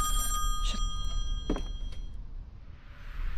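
A telephone rings in the horror video game Song of Horror, set in the Husher Mansion. Short metallic ring bursts sound over a steady low ambient drone, with no talking.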